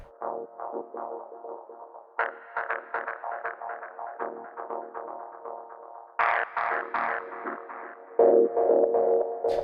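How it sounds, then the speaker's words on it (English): A distorted synth line in Ableton Live plays in choppy, rhythmic bursts through a ping-pong delay, with echoing repeats bouncing after each note; no voices. "Let's change it to a ping pong delay."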